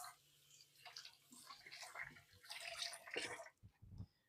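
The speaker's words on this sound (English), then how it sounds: "let me give my hands a quick rinse here" Hands rinsed under a running tap in a home kitchen, a soft splashing flow that swells and shifts as the hands move, then cuts off near the end.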